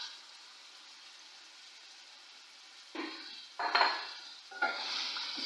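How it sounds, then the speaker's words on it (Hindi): Taro pieces frying in hot oil with masala, a faint steady sizzle that swells into louder bursts of hissing and stirring as the pan is worked, close by. "इसको हम मसाले में अच्छी तरह फ्राई करेंगे"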